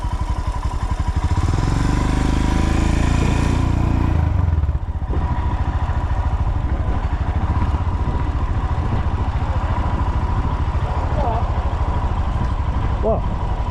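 Royal Enfield Himalayan 450 motorcycle engine running steadily throughout, loud and close with a dense low rumble, growing busier in the first few seconds before settling; faint voices sit underneath.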